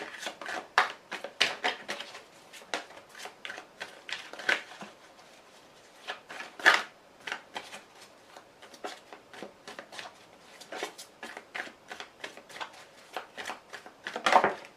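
Tarot cards being shuffled and flipped over, a run of quick papery riffles and soft slaps close by, fairly quiet and irregular, with no talking.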